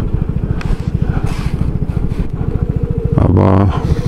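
A Vespa GTS300 scooter rides along with a steady, close, pulsing single-cylinder engine note that rises briefly near the end.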